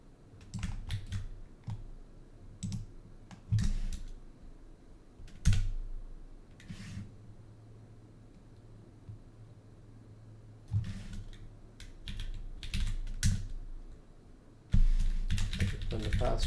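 Intermittent keystroke bursts on a computer keyboard, entering a password for SSH access to a Linux virtual machine, with scattered clicks separated by quiet pauses and a louder flurry of typing at the end, up close.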